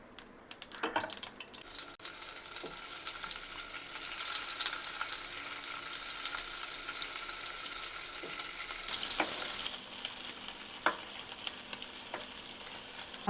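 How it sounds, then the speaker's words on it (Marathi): Paneer pieces fry in hot oil in a pan, a continuous close sizzle with occasional clicks and scrapes as they are turned, steady and moderately quiet throughout. "पण तेल टाकून पनीर दोन्ही बाजूनी भाजून घेऊया."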